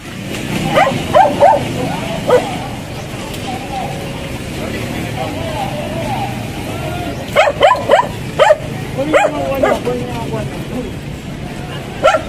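A dog on a city sidewalk barks in short clustered bursts, a few near the start and a louder run later, over steady street noise with voices talking in the background.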